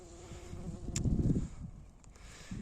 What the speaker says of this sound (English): Where's a wee bee having a good old munch?